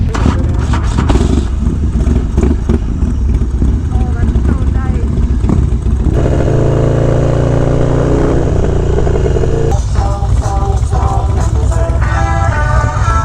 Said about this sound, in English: Brand new engine, high compression, 110 in this bike.